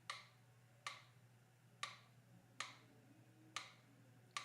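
Sharp, even ticks sound about once a second, crisp and fairly close over a low steady hum, with nothing else in between.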